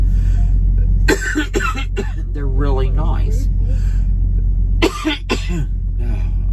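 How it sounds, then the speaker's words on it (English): Two sharp bursts of coughing from acid reflux, a few hacks each, close by inside a truck with a steady low hum behind and a brief spoken line between them. "I got some acid reflux and it's causing me to cough."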